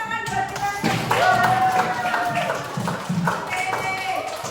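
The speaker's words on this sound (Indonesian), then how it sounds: "tepuk tangan buat kita semua." Students in a classroom clap together for a few seconds as a group round of applause, the claps dense and fairly close, with a teacher's voice and chatter mixed in.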